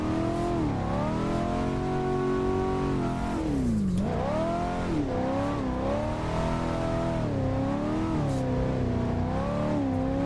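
A 1988 Monte Carlo in the Assetto Corsa racing game, built for drifting, revs hard and continuously, its engine pitch rising and falling as the throttle changes, loud and steady throughout.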